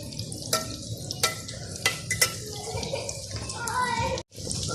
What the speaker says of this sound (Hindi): रोल फ्राई हो चुके हैं